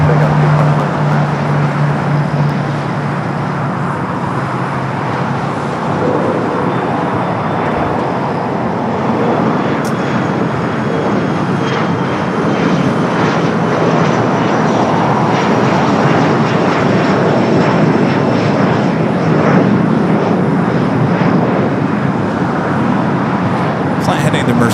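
A Contour Aviation airplane taking off at LAX gives a loud, continuous engine roar that holds steady for the whole stretch, with no break and no fading.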